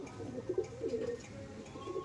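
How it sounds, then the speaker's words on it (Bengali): Pigeons in a home loft, male and female birds, give soft low repeated coos at close range, a gentle rolling murmur against faint background noise with no talk. "আর এই যে ছিল নর পায়রা"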